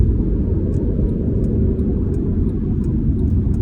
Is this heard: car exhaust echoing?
yes